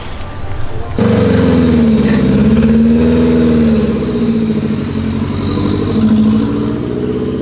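A car engine revs and pulls away close by, a loud steady mid-range drone with rising and falling pitch as it accelerates, following a short burst of louder noise at the start.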